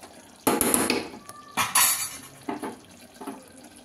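Water poured into mutton gravy in a pot, heard as a few splashy bursts with clinking of a vessel, loudest early and tapering into shorter pours.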